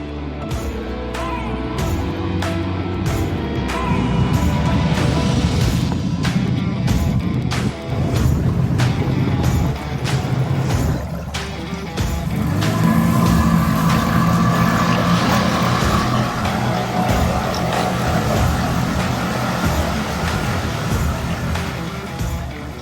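A 60 hp Mercury outboard motor on a small boat runs at idle, a steady low drone with water and wind noise throughout and a few sharp knocks near the start.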